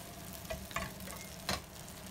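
Salmon sizzling and crackling in a hot pan, a steady frying hiss with a few sharper pops, close by.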